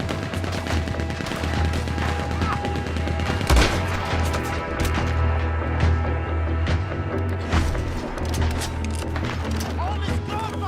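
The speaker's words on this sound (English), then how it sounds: "All this gunfire." Constant rapid gunfire and sharp shots crackle throughout, with occasional heavier bangs, dense and busy, from a battle in the video game Red Dead Redemption 2 on PS4 Pro.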